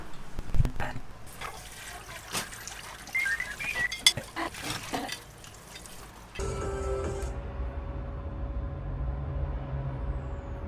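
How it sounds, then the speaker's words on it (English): Dishes are washed under a running tap in Thailand, with clinking and splashing giving way to a steady stream of water, and people talking faintly at times. "I'm gonna go do dishes."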